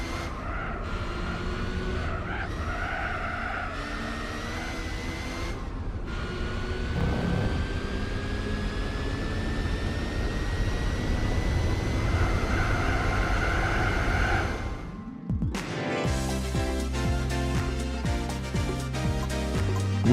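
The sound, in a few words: rotary-engine car drifting in Gran Turismo 4 video game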